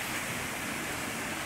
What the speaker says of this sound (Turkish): Dere coşmuş durumda.